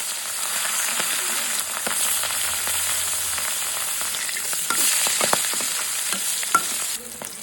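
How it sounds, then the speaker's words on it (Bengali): A rohu fish head fries in hot oil in a wok, producing a loud, continuous close sizzle with scattered crackles and stirring clicks, with no voices. "কড়াইয়ে তেল গরম করে মাছের মাথাটি উল্টে পাল্টে লালচে করে ভেজে নিচ্ছি।"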